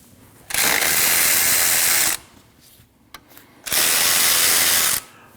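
Two long, loud bursts of a power tool spinning off a 12mm bolt on the alternator tensioner of a 2003-2008 Subaru Forester 2.5L H4, separated by a quieter pause with small metallic clicks.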